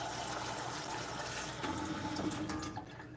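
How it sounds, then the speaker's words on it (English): Soaked kidney beans rinsed under running water from a faucet, a steady close gush and splatter that shifts slightly partway through as the flow changes, with no talking. "So let's just give them a little bit of a rinse."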